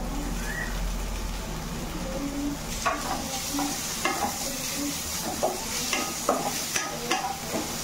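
Onion, garlic and ginger frying in a pan, a constant close sizzle broken by repeated sharp scrapes and clicks of stirring in an uneven rhythm, with no talking.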